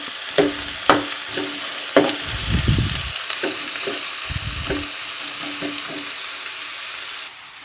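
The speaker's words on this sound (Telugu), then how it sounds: "నూనె కాగినట్టయితే మిగిలిన ఉల్లిపాయలు కూడా వేసేసుకోవాలి. ఇప్పుడు స్టవ్ని లో ఫ్లేమ్లో పెట్టుకుని ఉల్లిపాయలు బాగా మగ్గనివ్వాలి." Sliced onions frying in hot oil on a low flame while cooking mushroom curry, a steady sizzle with repeated stirring scrapes and clinks at an irregular rhythm, close and alone.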